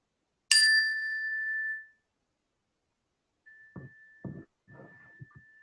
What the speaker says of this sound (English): And I'll ring the bell once more.